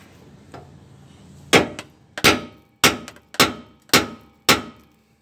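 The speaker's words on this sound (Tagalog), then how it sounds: "Tirahin nyo ng maso." A sledgehammer strikes a wheel bushing on a Crosswind with the wheel still mounted, giving six loud, ringing metallic blows at a steady pace after a faint tap.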